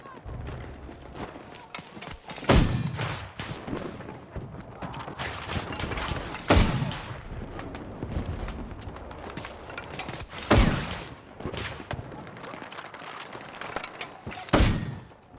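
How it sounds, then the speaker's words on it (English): Gunfire from a rooftop shooter in a tank battle video game, four sharp, loud bursts spaced a few seconds apart over a constant rumbling battle din. "Someone's shooting way up there on that roof."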